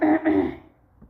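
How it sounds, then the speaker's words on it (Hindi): A lecturer with a cough clears her throat up close: one rough, gravelly rasp, then a second, followed by a fading tail and a faint tick before silence. "खांसी हो रखी है मुझे, उसके लिए माफ़ कर देना मुझे"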